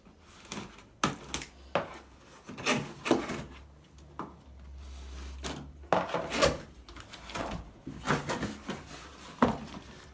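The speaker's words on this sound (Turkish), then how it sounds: "Şimdi şuradaki bantları keselim." Repeated scraping and slicing sounds of packing tape being cut on a Dyson V10 vacuum cardboard box, in short irregular strokes with rustling between them, close by.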